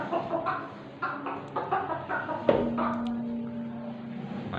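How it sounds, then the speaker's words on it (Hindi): Hens in a backyard flock cluck in short, scattered calls, with one longer drawn-out cluck midway, close and moderately quiet over faint background noise, with no talk. "माशाल्लाह कितनी सारी मुर्गियाँ हैं,"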